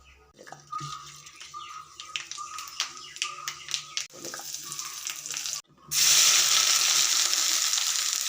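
Mustard seeds crackle and sizzle in hot oil for beetroot thoran, a run of sharp popping bursts that gives way to a loud, steady frying hiss.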